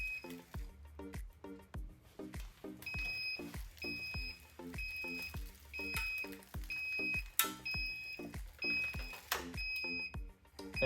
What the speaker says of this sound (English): you just want to wait and hear those 3 beeps to know that we're closed